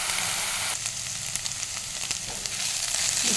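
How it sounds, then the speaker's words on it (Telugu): Sliced ivy gourd, overripe kundri, sizzles steadily in hot oil in a pan, a dense, even frying hiss with small crackles and pops throughout, close and continuous. "এগুলো একদম যখন ফ্রাই করে মানে ভাজা ভাজা বানাবো"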